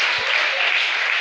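Applause fills a church service in praise of Jesus, a dense, steady wash of clapping from the congregation, loud and close, sustained without pause for the whole moment.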